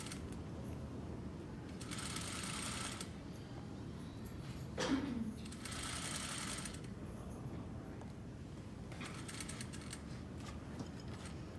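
Sewing machine stitching a 1/4 inch lining seam, running in several steady whirring bursts separated by pauses, with a brief mechanical creak midway, quiet and close with no talking.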